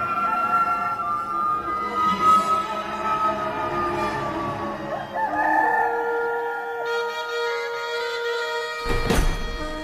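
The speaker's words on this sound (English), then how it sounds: "a rooster crowed." A rooster crows in a long, wavering call, with a brief sharp noise at the very end.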